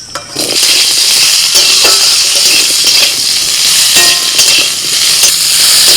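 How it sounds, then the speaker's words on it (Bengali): Mango pieces frying in oil tempered with a dried red chili and black mustard seeds for a mango chutney, giving a loud, steady sizzle throughout with scattered utensil scrapes and stirring clinks, close up, with no voices. "তেলের মধ্যে আমটা একটু নাড়াচাড়া করে নিই"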